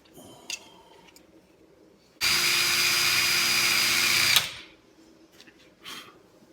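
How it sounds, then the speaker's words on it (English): Power drill boring into a fiber reinforced plastic spring, one loud continuous whine of about two seconds with faint ticking and handling noises before and after. "That don't drill as easy as it looks, Bubba."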